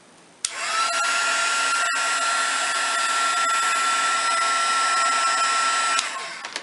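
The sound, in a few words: heat tool melting embossing powder on a brad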